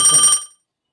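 A phone rings in one short, loud, close electronic trill that stops abruptly and leaves silence, with no talk.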